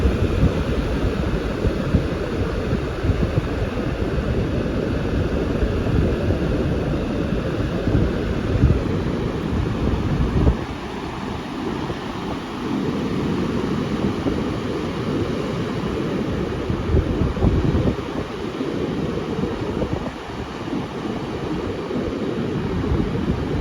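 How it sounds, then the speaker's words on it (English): Ocean waves break at a beach in a steady, rumbling wash of surf that swells and recedes, loud and continuous, with no voices. "Very relaxing to listen to the waves at the beach"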